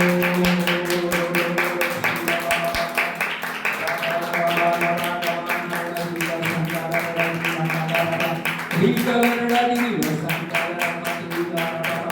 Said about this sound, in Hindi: ताली बजा के हम उसके नाम की तारीफ करें।